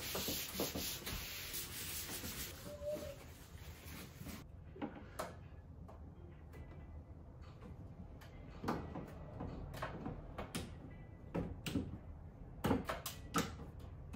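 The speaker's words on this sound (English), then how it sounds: "So I'm just scrubbing it with some Dawn soap." Mini split air filters are scrubbed in a sink with Dawn dish soap, giving a quiet, continuous rubbing and brushing texture with scattered sharper scrapes and knocks.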